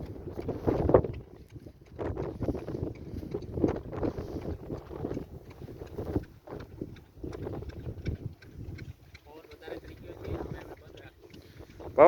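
Strong wind gusts across an open cumin field, a rough, buffeting roar hitting the microphone continuously, with a voice speaking faintly underneath.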